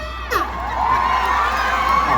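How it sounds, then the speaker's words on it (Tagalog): An outdoor festival comedy-show crowd at the Milagros Festival 2024 cheers and shouts together in a loud, sustained roar, with voices rising in pitch. "magpalakpakan po na may kasamang sigawan na nagsasabi, Pangit si Tekla!"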